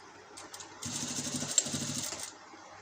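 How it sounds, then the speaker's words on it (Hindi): A sewing machine stitches a seam in kurti fabric, starting with a few soft ticks and then running in a fast, even whirring rattle that pauses briefly mid-run, close and fairly quiet. "एक साइड से आधा इंच की दूरी पे सिलाई कर लाएंगे।"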